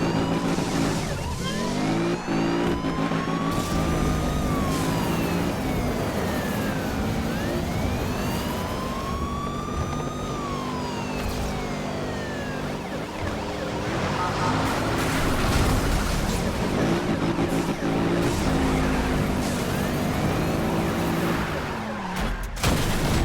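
Police cars in the video game Need for Speed Rivals, wailing sirens rising and falling over loud engine roar and tire skids, continuous and close throughout.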